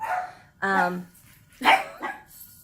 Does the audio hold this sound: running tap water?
no